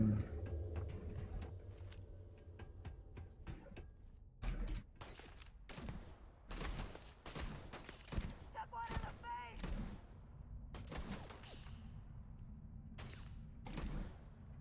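Scattered gunshots in a video game, from a rapid burst early on to isolated sharp cracks and short volleys with mechanical clanks between, moderately loud, with a voice talking at points.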